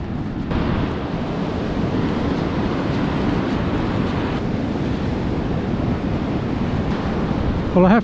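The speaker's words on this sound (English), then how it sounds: "This is Big Quarram Beach." Surf washes continuously onto flat Big Quarram Beach on a receding tide, a broad steady roar mixed with wind buffeting the microphone, and a brief voice near the end.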